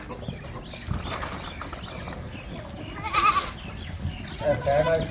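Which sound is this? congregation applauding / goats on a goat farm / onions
goats on a goat farm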